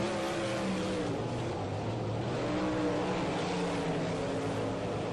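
A pack of 360 sprint cars races around the dirt oval at Ohsweken Speedway, loud engines roaring and rising and falling in pitch as they pass, under constant crowd and track noise.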